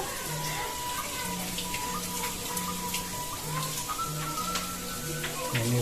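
Water pours steadily from two spring spouts into a bathing room, a constant splashing rush with dripping, while people talk in short phrases over it.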